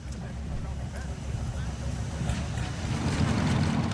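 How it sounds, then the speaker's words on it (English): Old tractors, including a 1956 John Deere 50 and a 1957 Ford Model 601, drive past in a tractor parade at a Memorial Day tractor show, their engines a steady low rumble that grows louder, with talk over it. "Now let's go back to the tractor parade."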